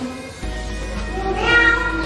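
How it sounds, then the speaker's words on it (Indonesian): A cat meows loudly and close, one drawn-out call rising in strength toward its end, heard alone indoors. "Suara kucing."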